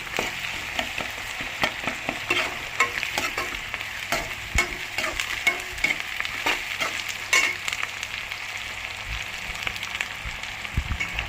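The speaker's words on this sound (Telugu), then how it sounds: "ఒక స్పూన్ అల్లం వెల్లుల్లిపాయ పేస్ట్, ఇది బాగా వేపుకోవాలి" Ginger-garlic paste fries in oil in a pan for a chicken and egg curry, giving a continuous sizzle broken by frequent quick clicks and scrapes of a spoon stirring, close and steady throughout.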